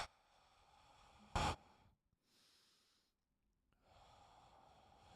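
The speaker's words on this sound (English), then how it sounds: "Take a few deep breaths" A few deep breaths drawn in a quiet room: one sharp, loud nasal intake followed by slower, softer breaths in and out, with brief silences between them.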